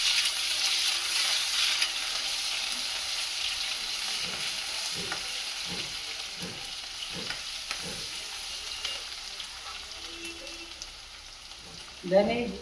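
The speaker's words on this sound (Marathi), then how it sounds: "आता लसूण आणि जिरं घालायचं." Garlic and cumin seeds fry in a pan for a spinach bhaji, giving a steady, close sizzle with scattered stirring taps and a louder clatter just before the end.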